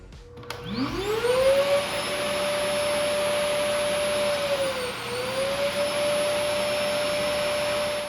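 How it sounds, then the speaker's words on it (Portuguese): A Samsung Bespoke Jet AI cordless vacuum's cleaning station starts up with a rising whine, then holds a loud, steady high-pitched roar for several seconds, dipping briefly before settling again. No voices are present. "Agora sobre o ruído da estação de limpeza. Esse sim faz um ruído muito alto"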